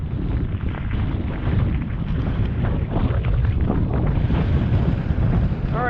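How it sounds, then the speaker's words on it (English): Strong wind buffets a microphone near a railway line close to Pass Lake Station, a continuous loud roar with gusting surges that fills the whole stretch. "The wind is just kind of coming right through this opening here."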